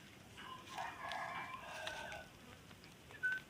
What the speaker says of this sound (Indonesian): Ya jenenge burung kadalan.